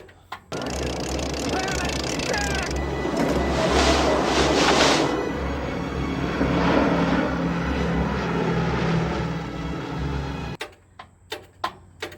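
A CCKW army truck engine cranking over, a steady loud low rhythmic churn lasting about ten seconds before it stops, with a voice shouting over it near the start.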